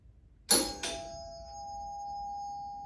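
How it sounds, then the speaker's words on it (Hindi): A home doorbell rings at night, two quick chimes followed by a clear tone that lingers and rings on quietly in an otherwise still room. "someone is ringing my doorbell, I guess."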